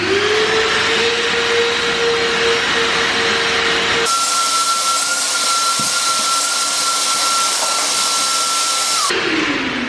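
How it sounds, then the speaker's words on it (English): A vacuum cleaner runs loudly and steadily while cleaning a mouse-soiled seat in a Mazda RX7 being stripped for a Group C build. Its pitch jumps to a higher, strained whine partway through, as if the nozzle is blocked against the seat, then drops back near the end. "maybe vacuum it up just a little bit."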